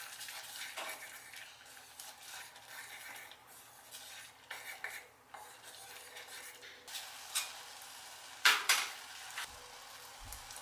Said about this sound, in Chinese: 煮到滚之后，打开搅拌一下